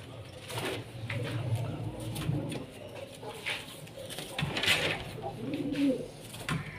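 Soft, low pigeon coos recur through the clip, murmuring over a faint rustling background with no talking.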